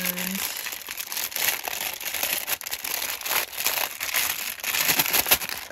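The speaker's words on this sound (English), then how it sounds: "For those of you that like crinkling, this video's for you." Plastic packaging around a travelers notebook crinkles and rustles loudly and close up, in continuous bursts throughout, as the package is opened for unboxing.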